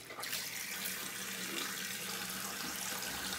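Running tap water rinses slick shaving soap off during a wet shave, a steady broadband rush of flowing water that continues close up for the whole stretch, alone without talk.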